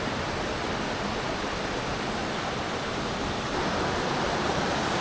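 Whitewater rapids on the River Birs in Switzerland, producing a steady, dense rushing hiss close by that holds unchanged throughout, with no other sounds.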